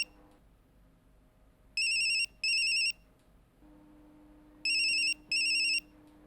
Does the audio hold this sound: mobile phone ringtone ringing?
yes